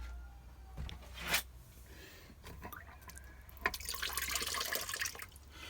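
Rainwater from an allotment greenhouse sink runs and trickles faintly, with a few splashes and a brief gurgle, quiet and close.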